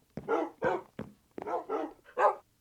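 Dogs in Minecraft bark about six times in a loose, uneven rhythm, clear and close with quiet gaps between, no talking.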